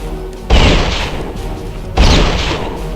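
Two loud, booming gunshots from the video game Return to Castle Wolfenstein, about a second and a half apart, each a sharp blast trailing into a short rumbling decay.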